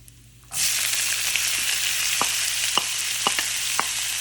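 Onions sizzle steadily in a hot pan for a dhaba-style matar paneer, a loud broadband hiss starting abruptly after a brief quiet moment, with a few sharp pops and crackles over the continuous frying.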